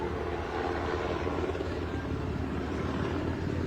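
A helicopter carrying a detained person, its engine and rotor a loud, steady, close drone with no talk over it.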